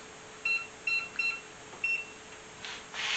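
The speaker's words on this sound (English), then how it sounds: "Set this timer for 10 minutes." Electronic keypad of a kitchen oven timer being set for 10 minutes: four short, clear beeps spaced about half a second apart, followed by faint handling rustle, no speech.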